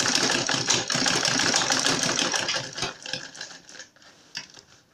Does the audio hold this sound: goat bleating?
no